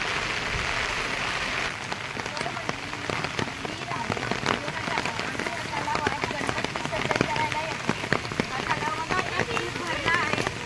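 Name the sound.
heavy monsoon rain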